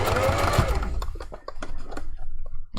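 Sewing machine stitching a seam on a puffy fursuit hand paw: a fast, steady motor whir up close, then a few short stop-start bursts of stitching.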